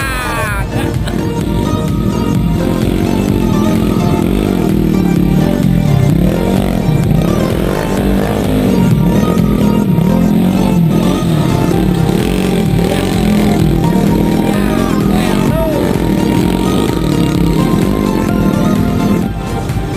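A new Honda CRF motocross bike revving hard on a dirt trail ride, its engine rising and falling in loud sustained pulls close by, with voices faintly mixed in.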